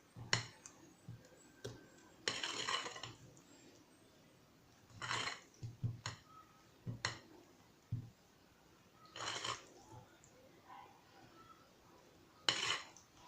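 Cream mixed in a bowl for a bûche dessert, heard as a few separated bursts of whisking and utensil clinks against the bowl with quiet pauses between them, faint overall.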